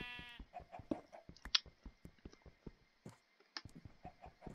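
Minecraft sheep from the Feed The Beast modpack bleat in short game calls amid quick clicking and tapping sounds from play, all fairly quiet and with no speech.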